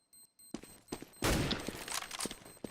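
Gunfire in a Counter-Strike esports match, a burst of several rapid shots rising into dense, sustained firing mid-clip, moderately loud with no voices over it.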